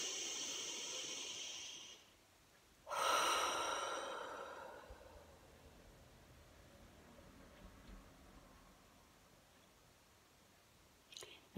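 A slow deep breath during a calm guided relaxation for insomnia, a soft airy inhale followed by a longer, louder exhale, close and intimate, then quiet with a faint click at the end.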